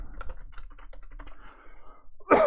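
Quick bursts of keystrokes on a computer keyboard, a run of light taps, a short pause, then a louder clatter at the end, close and clear with no talk.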